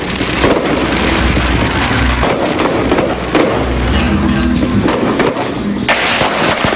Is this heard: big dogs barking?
no